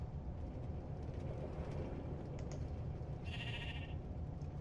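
A sheep bleats in Minecraft: a single short nasal bleat rises near the end over a low, steady background hum, fairly faint and with no talking.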